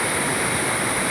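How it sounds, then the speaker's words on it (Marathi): Water pouring over a village weir like a small waterfall, a loud continuous rushing roar close by, unbroken and without voices. "किती मनमोहक धबधबा आहे बघा"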